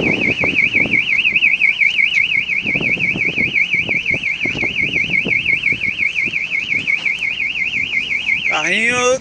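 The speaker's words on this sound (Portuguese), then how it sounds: "Carrinho disparou o alarme." Car alarm wails on a seaside street in Santos, a loud, close, continuous warbling siren cycling evenly over scattered background noise, then switching abruptly to a rising swept tone at the end.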